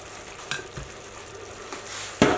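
Tomato and spice base for ful cooking in a pan, giving a low bubbling sizzle broken by a few scraping stirs, with the loudest clatter at the end.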